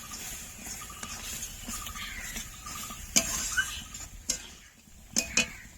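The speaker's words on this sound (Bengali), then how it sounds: "ভালো করে কষে নেব।" Chicken curry with turmeric is stirred in a pan, producing a low steady sizzle with spatula scrapes and a few sharp metallic clacks against the pan's rim; close and fairly quiet, with no talking.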